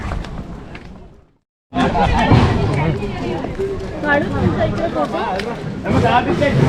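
A crowd of people mills near a fort in Goa, with construction work going on behind, producing a steady murmur of babble and movement. A speaker talks over it throughout, after a brief silent gap.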